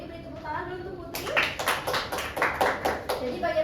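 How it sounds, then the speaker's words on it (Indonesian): Classroom applause for a student at the board, a group of pupils clapping together in a dense, steady patter that starts abruptly and carries on, with faint chatter beneath. "Beri tepuk tangan dulu untuk Putri."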